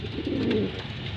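A domestic pigeon in a backyard loft gives a single close, soft, throaty coo lasting about a second.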